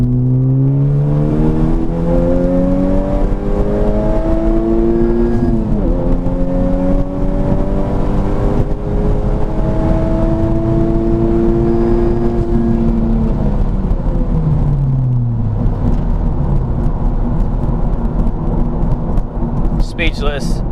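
A Honda Civic Type R FK8 street-tuned hatchback pulls from about 40 in third gear at wide open throttle: the engine note climbs steadily and loudly from inside the cabin, dropping briefly at shifts before winding up again.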